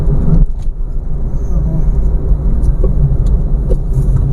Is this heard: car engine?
yes